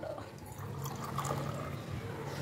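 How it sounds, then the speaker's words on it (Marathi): Water pours steadily into a cooking pot of spicy home-cooked curry, a continuous close splashing rush lasting a couple of seconds. "पाणी टाकते"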